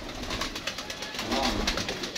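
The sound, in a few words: pigeons cooing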